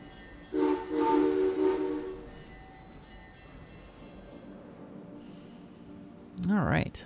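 Train in Factorio: a rumbling run with a short whistle-like tone near the start, a quieter rolling stretch, and another brief tonal blast at the end as someone talks.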